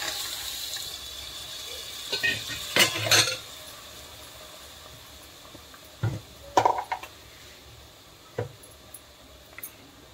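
Chickpeas and potatoes tipped into a thick gravy in a pan while cooking chana bhaji, heard as a few soft wet plops and clinks of the spoon against the pan, near and moderately loud, with no talking.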